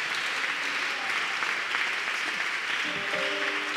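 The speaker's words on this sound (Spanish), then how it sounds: "Aplauda el nombre de Jesús" A church congregation at an evening sermon applauds together, a thick, even wash of many hands clapping that holds steady and loud throughout, with faint voices surfacing briefly near the end.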